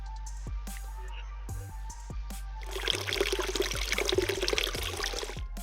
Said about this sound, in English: What we do is take the beer and we're gonna empty it